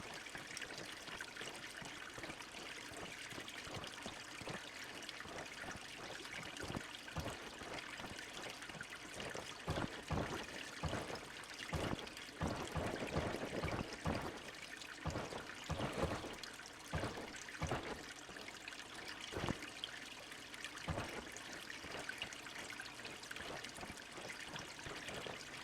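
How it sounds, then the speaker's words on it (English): Rain falls in the game Lifeless Moon as a quiet, continuous wash of trickling water, with scattered soft splashes and drips breaking through the steady background hiss. "It's raining."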